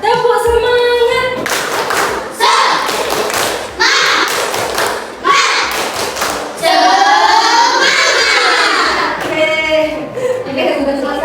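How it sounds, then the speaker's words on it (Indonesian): A primary school class claps 'tepuk semangat' together in loud, rhythmic bursts of hand claps and thumps, alternating with children chanting and a teacher's voice close by. "Oke, sekali lagi, kita tepuk semangat, tepuk semangat."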